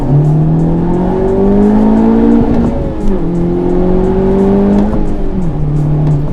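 A Honda Civic Type R engine revs hard in second gear and climbs steadily in pitch, dipping briefly at gear changes before pulling again, loud and close with no talking.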